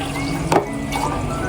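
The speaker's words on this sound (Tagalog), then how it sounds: "Hugasan natin muna yung rice" Rice being washed in water for a gyudon dinner at home in Japan: a short splash and slosh midway, with a faint second swirl, over a steady background hum.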